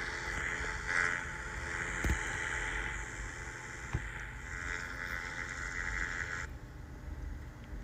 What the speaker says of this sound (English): We're pushing that engine. It's trying.